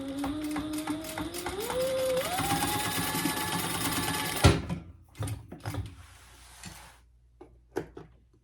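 A sewing machine bastes fabric panels of a pouch, its motor whirring steadily and rising in pitch for about four seconds before stopping with a clunk, followed by scattered handling clicks and rustles.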